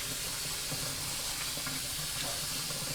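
Cold tap water runs steadily over cooked pasta in a sink, a soft, continuous splashing rush heard fairly quietly and alone.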